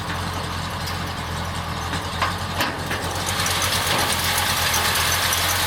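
A straight-piped Chevy 5.7 small-block V8 with an Edelbrock carburetor in a 1951 Chevrolet 3100 pickup idles loud with a rough, rumbling lope, steady and close, with a coarse exhaust rasp throughout.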